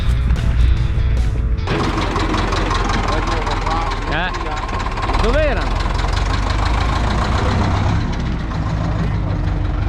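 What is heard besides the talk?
Piaggio Ape three-wheeler engine running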